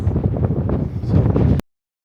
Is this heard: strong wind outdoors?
yes